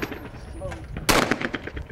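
A shotgun fires at clay targets on a trap or skeet range: one sharp, loud, close report about midway through, its echo rolling off after, with faint outdoor background before it.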